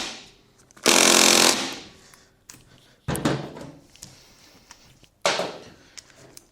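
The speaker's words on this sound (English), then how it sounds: "These little rattle guns can't give that much torque" Bursts of a small pneumatic rattle gun impact wrench working on a scooter bolt during a belt and roller replacement, three sharp, loud hammering rattles with quiet pauses between them, close by and with no talking.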